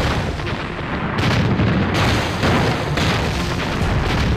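Artillery cannon fire in a Chinese war drama about fighting Japanese troops, a loud, dense barrage of heavy booms and rolling rumble that fills the whole stretch without pause, with no talking.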